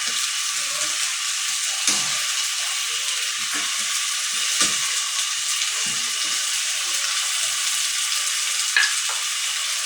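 Chicken for adobo fries in a pan with a steady, dense sizzle and crackle throughout, with occasional louder pops and scrapes of stirring, no voices.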